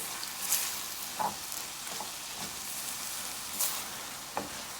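Potato filling for stuffed baked potatoes sizzles steadily in a pan, a constant close frying hiss broken by a few soft scrapes and knocks of stirring.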